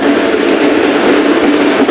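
Steady, loud rumble and hum from inside a moving Mumbai AC local train, continuous and close with no clear voices.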